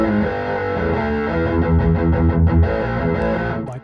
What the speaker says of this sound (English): I'll switch in our distortion here and go back to that Leslie.